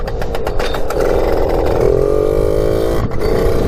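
A Suzuki JR50 dirt bike engine revs while being ridden, a loud buzzing two-stroke note that climbs in pitch, holds steady, then dips briefly and picks up again.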